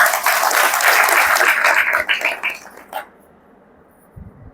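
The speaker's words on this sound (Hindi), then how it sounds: "अपने लिए ताली बजा दो एक बार।" A seated spiritual gathering claps for itself, loud dense applause for about two seconds that breaks into scattered claps and dies out by the third second, followed by near quiet.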